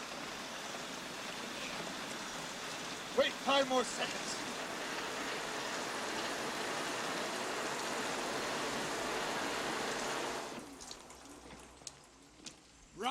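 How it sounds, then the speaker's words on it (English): Heavy rain pours down in a steady dense hiss for about ten seconds, a voice breaking in briefly before the downpour cuts off into quieter sounds. "right now, it's pouring rain"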